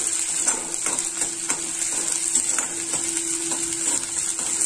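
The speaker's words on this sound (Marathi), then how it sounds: "तर आपण हे छान समग परतून घेऊया तेलामध्ये" Capsicum and onion being sautéed in oil for masala Maggi, a steady close sizzle with occasional scraping stirs of a spoon in the pan, no speech.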